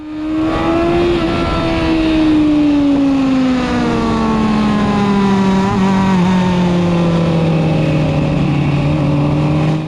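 Kawasaki ZX6R sport bike at high revs on a racing track day, loud continuous engine whine climbing and falling through gear changes, with other motorcycles bunched close in traffic through the turns.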